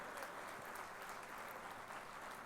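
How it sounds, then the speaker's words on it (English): An audience at a national teachers' congress breaks into a big round of applause, steady dense clapping filling the hall throughout, with no voices standing out. "I think we should have a big round of applause for him"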